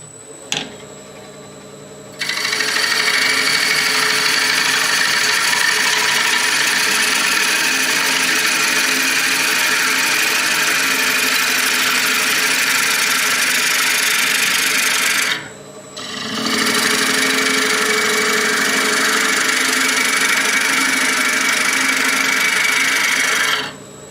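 A wood lathe turns a green wood bowl while a cutting tool shaves the spinning blank, giving a loud, steady, rough hissing rasp that runs unbroken, dips briefly once partway through, then continues close up without speech.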